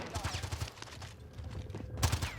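Rapid gunfire crackles in Call of Duty Warzone, with dense bursts of shots at the start and again near the end and a lighter patter between, and a voice speaking faintly under it.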